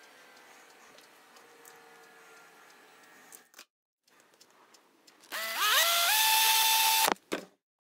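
A power drill enlarges screw holes on a new fitting inside a motorhome: quiet handling and clicks first, then one loud close whine that spins up and holds steady for about two seconds before stopping abruptly.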